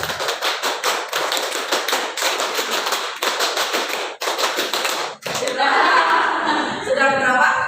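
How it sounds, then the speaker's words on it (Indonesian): Rapid, repeated hand claps or taps in quick bursts, sharp and close, followed by voices and light laughter near the end. "5 kali tepuk 5"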